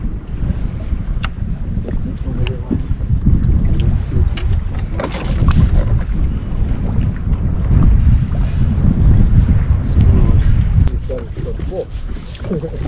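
Strong wind buffets the microphone nonstop while fishing from a boat in winter, a loud rumbling roar over splashing water, with people talking underneath.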